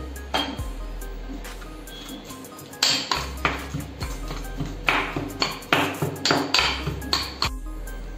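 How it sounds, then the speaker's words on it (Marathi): Wood apple chutney with red chilli powder and salt is pounded in a mortar, giving a series of sharp, close, ringing knocks, roughly one or two per second. "पुन्हा कुटून घ्यायचे।"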